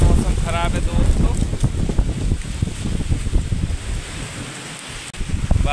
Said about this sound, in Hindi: बादल भी बहुत तेज तेज गरज रहे हैं।